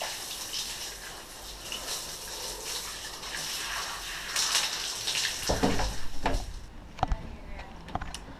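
Shower water runs as a steady, close broadband hiss for several seconds, then cuts off, leaving a few sharp clatters and quieter room noise.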